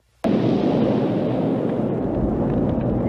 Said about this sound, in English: This is, again, another great practical explosion.